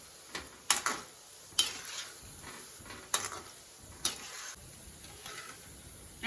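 Banana bread bondas frying in a pan of oil and being flipped over: a soft, faint sizzle broken by several sharp clinks and taps of a utensil against the pan, spaced irregularly, with no talking.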